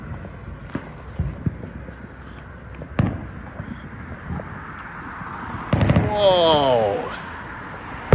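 Neighborhood fireworks on New Year's Eve: scattered distant booms and sharp cracks, then a louder burst with whistling, crackling trails, heard while walking outdoors, with a brief exclamation from a person.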